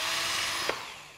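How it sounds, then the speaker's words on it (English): A power drill bores into a waste block of wood, its high whine steady and close before slowing down as the bit finishes, with no talk. "So there's the drill."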